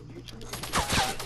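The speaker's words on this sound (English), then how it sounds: "I'm getting shot at." Gunfire in the Fortnite video game, a burst of rapid shots mixed with game sounds and a loud voice, brief and close.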